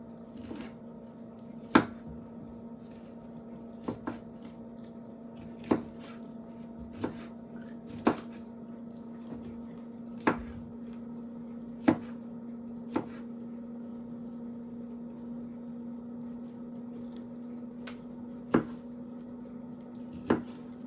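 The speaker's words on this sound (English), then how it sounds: "she's helping me cut, so she's using a plastic knife just in case you're wondering" A child helps cut food with a plastic knife while pasta and meatballs are made, giving crisp, irregular taps on a cutting board every second or two over a steady low kitchen hum, with no talking.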